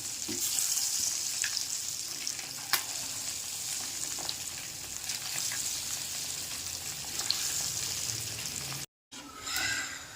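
Pakodi fry in hot oil, dropped in one at a time, giving a continuous bubbling sizzle with occasional sharp crackles and clicks, close and steady, briefly cut out near the end before resuming.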